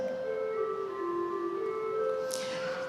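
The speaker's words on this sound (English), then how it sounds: "And if we hear the chimney flute, it sounds like this." A pipe organ sounds its chimney flute stop, holding soft, steady, pure flute-like tones that shift gently from one note to the next, with no other sound over them.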